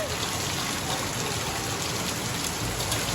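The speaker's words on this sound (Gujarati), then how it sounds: "કેવો વરસાદ છે" Heavy monsoon rain pours down in a dense, steady roar of drops hitting surfaces, loud and unbroken throughout.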